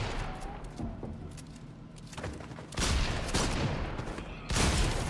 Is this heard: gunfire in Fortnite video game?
yes